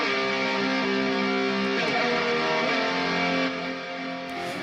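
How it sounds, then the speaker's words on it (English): A distorted lead guitar line from a song's chorus, played in an FL Studio project, rings out with sustained, gritty notes that shift pitch partway through, steady and prominent with no talking. "there's originally lead guitar in the chorus that sounds like this"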